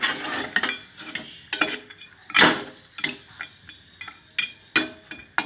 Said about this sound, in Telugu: ఇది కలిపి ఉడకబెట్టుకుందాం చక్కగా